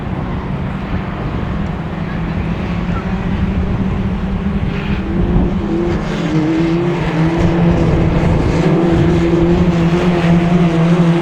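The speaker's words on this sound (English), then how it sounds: "Having a bit of a battle for first from Ash Howard in the SN11 car" Autograss race cars battle for the lead at a St Neots grass track meeting, engines droning loudly and continuously with rising and falling revs throughout, some wind buffeting the microphone.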